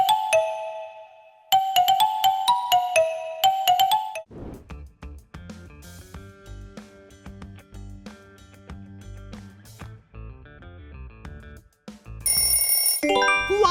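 A Lava smartphone ringtone plays as a bright, bell-like melody of repeated chiming notes, shifting into a fuller musical passage with a steady beat and ending on high sparkling tones, loud and close with no voices.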